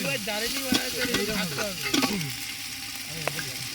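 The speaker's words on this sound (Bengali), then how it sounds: "ওই জন্য ভাজতে হবে মশলাটা" Ginger-garlic masala paste frying in a pot for handi chicken while being stirred, a close sizzle broken by repeated scraping strokes of a spoon; a voice talks over the first half.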